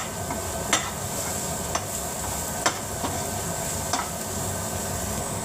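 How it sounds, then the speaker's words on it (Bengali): Leafy greens (shak) fry in a pan with a continuous hiss and crackle, broken by a few short scrapes and clicks from stirring. No one speaks. "শাক ভাজছি এখন।"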